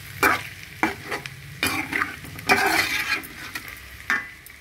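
Curry pieces frying and being stirred in a pan, with a steady close sizzle broken by repeated scraping strokes of a spoon against the metal, about one stroke every second.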